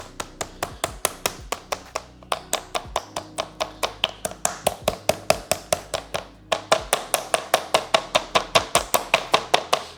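Rapid, steady pounding on chicken with a meat tenderizer, sharp thuds in a fast even rhythm with two brief pauses, close and loud.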